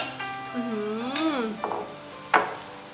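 Orange mushrooms stir-frying in a hot pan, a soft steady sizzle under a voice talking throughout, with a few sharp clinks of a utensil against the pan.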